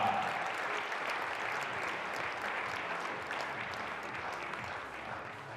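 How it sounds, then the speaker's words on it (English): Applause at a men's 10m air pistol final during the European Championship fills the hall as a steady, dense patter of clapping that fades slightly toward the end, moderately distant and heard alone. "Give a round of applause to João King Costa."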